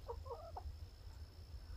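A few short clucks from chickens inside their new wooden chicken shack, quick soft calls early on, then only a low steady hum for the rest.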